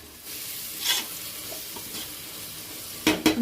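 Garam masala frying for masala khichdi is stirred in a pan, giving soft scraping sweeps over a faint sizzle, with a sharper clatter of the spoon near the end.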